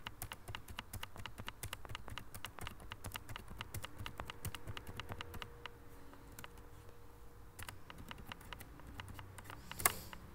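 Numbers are typed into an Excel spreadsheet on a computer keyboard, with steady close key taps clicking at an even, quick pace and one sharper keystroke near the end.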